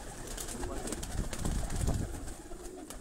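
Pigeons cooing in a loft, a steady murmur of overlapping coos close by with rustling and background noise, and a voice briefly talking.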